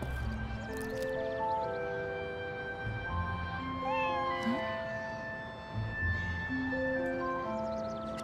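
A cat meows a few times over sustained, layered musical tones, with the cries rising and bending in pitch at a moderate level.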